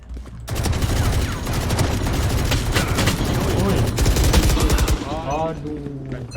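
Rapid gunfire from a shooting video game rattles continuously for several seconds, dense automatic bursts with loud cracks, close and dominant, fading into a short tail at the end.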